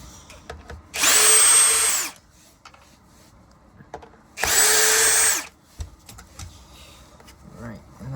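A power screwdriver unscrews the top cover screws of a Shark Zero-M vacuum in two loud, roughly one-second whirring bursts, close up, with quiet handling noises and brief talk between them.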